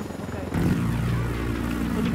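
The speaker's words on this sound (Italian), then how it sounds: "L'elicottero è molto forte" A helicopter in the video game Ghost Recon Wildlands drones and rotor-buzzes, its engine surging louder about halfway through and holding steady, with voices talking over it.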